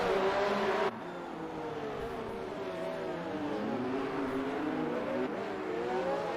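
Race car engines whine at Monaco in an Xbox racing video game, a steady high-revving drone with shifting pitch as the cars accelerate and brake along the street circuit, moderately loud and continuous with no talk.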